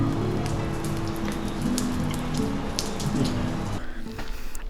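Rain pattering steadily on a camping tarp during a solo glamping trip, with scattered drops striking close by over a continuous wet hiss that eases slightly near the end.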